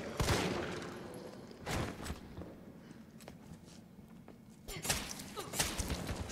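Gunfire in the video game Resident Evil 3: a few sharp, loud shots ring out at scattered moments, separated by quieter stretches of low rustling and footsteps.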